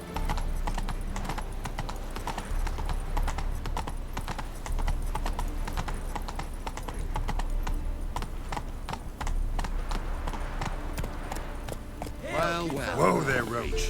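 Hooves of the horse Roach clip-clopping steadily in The Witcher 3, a continuous close rhythmic trot with a faint whinny near the end, and people talking over it.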